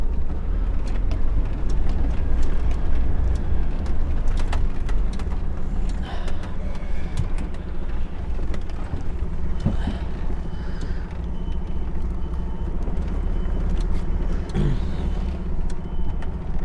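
An HGV lorry's diesel engine drones at low pitch while it is put into gear and driven on a UK delivery run, a steady loud rumble with scattered knocks and rattles throughout.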